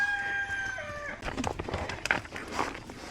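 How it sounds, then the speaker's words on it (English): Chickens in a barn give a sustained crowing call up close, followed by scattered clucks and bird noises with farm background, no talking. "There's some chickens in there."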